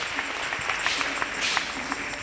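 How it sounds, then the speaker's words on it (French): A church congregation claps for Jesus Christ, a moderately loud spread of clapping with distinct individual claps standing out in a loose rhythm. "Let's clap for Jesus Christ"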